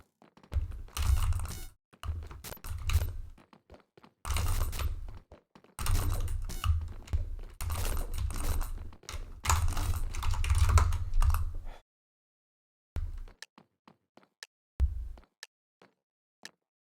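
Rapid bursts of typing on a computer keyboard, near and distinct, with clattering keystrokes in irregular runs broken by short pauses, then a few isolated taps trailing off into quiet.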